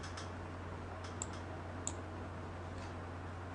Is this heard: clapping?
no